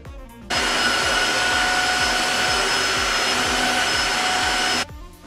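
Wet vacuum mop cleaner running steadily at close range: a loud, constant whirring motor drone with a high whine, switched on after a brief pause and cut off near the end.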